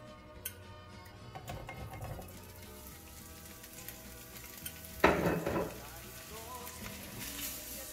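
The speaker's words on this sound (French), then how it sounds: "je vais poêler mes lardons pendant quelques minutes" Bacon lardons fry in a pan with a soft, continuous sizzle, with light utensil taps and one louder scraping stir midway.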